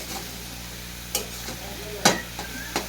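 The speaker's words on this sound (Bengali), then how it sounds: "সেদ্ধ করা বাঁধাকপিটা আমি দিয়ে দেবো দেখুন নেড়ে ছেড়ে নেবো" Boiled cabbage being stirred as it fries in a pan, with a low sizzle under a few sharp scraping strokes of the spatula spaced over a few seconds.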